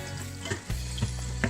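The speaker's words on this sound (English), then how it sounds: "So I'm going to throw in the mushrooms. And mushroom, it also gets more fragrant when you stir fry a little." Mushrooms stir-fried in a pan for fried pork leg bee hoon give off a steady, close sizzle, broken by a few soft stirring scrapes and taps, with no talking.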